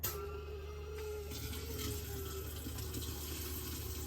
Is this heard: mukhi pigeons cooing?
no